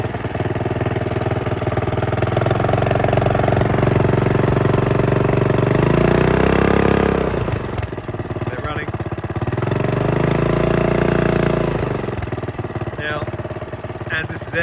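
A Honda 2hp four-stroke air-cooled outboard motor runs up close, revving up and settling back twice in long swells of engine tone, with brief speech in the lulls.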